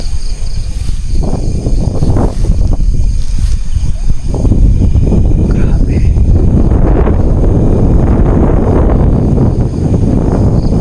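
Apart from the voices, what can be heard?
wind blowing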